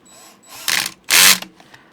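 Two short bursts of a power driver sink a self-tapping screw into a custom car windshield mount, loud and close, with faint mechanical clicks between and after them.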